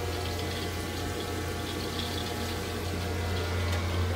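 Water flushing through a newly installed Baxi Platinum gas combi boiler system via a flushing adapter with a magnetic cleanser, a steady continuous rushing and humming flow with a low pump drone throughout.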